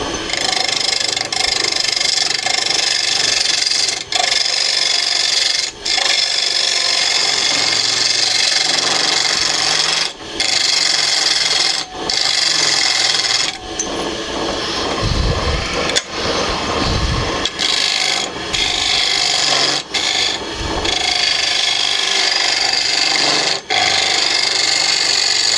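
Maple bowl blank being turned on a wood lathe, a steady loud rough cutting rasp as the gouge hogs out wood, with brief pauses where the tool lifts off and lower rumbling passes midway.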